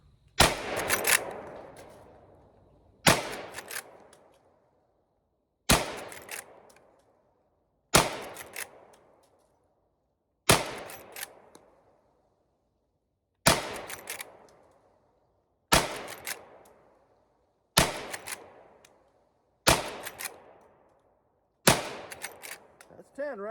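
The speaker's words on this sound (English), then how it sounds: "we're going to do 10 of the 38 specials downrange using our buckhorn sights" A Henry Big Boy brass lever-action rifle fires .38 Special rounds through buckhorn sights outdoors: ten loud, sharp shots spaced a couple of seconds apart, each with a fading echo.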